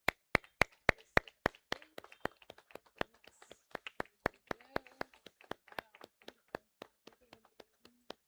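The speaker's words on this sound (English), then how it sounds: "A big round of applause." Hands clap in a steady, evenly spaced beat at a women's leadership event, sharp distinct claps about four per second, close and crisp, with faint scattered taps and murmuring in between.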